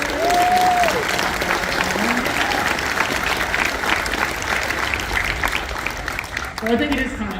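An audience applauds at a San Diego Comic Con Capcom Street Fighter 6 panel, a steady roomful of clapping and light cheering, with a voice talking briefly over it at the start and end.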